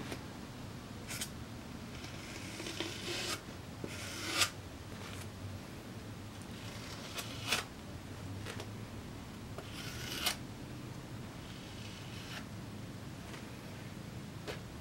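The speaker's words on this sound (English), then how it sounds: "So now that everything's saturated properly, I'm just going to scrape off the excess so everything's consistent." Excess epoxy scraped off surfboard foam with a hand tool, giving soft rasping strokes in short bursts with a few sharper scrapes, quiet and close, with no talking.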